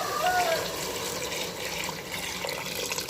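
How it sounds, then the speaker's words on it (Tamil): Measured water gushes steadily into a pot of rice for beef biryani, a continuous close pouring sound. "அந்த தண்ணியை சேர்த்துக்கலாம்."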